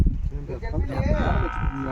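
A buffalo lowing at a farm animal show, one drawn-out wavering moo up close, with people talking faintly in the background.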